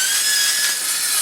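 A Hilti 22V cordless metal-cutting circular saw cold-cutting a stack of four corrugated iron sheets, giving a continuous loud, harsh, high-pitched grinding whine that holds steady for the whole moment.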